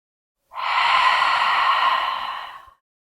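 A single long, deep breath pushed out during home yoga practice, rising quickly, holding steady and close for about two seconds, then tapering off into silence.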